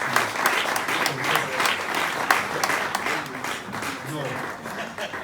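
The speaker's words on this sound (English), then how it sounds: "Let's give you a round of applause." Audience applause for a professor at an awards ceremony, a dense, steady wash of clapping with crowd murmur and some voices underneath, continuing evenly for several seconds.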